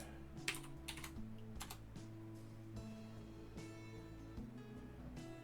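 Steady keystrokes tapped out on a computer keyboard, a quiet run of clicks with a few louder bursts, set over a constant low hum, with no voices.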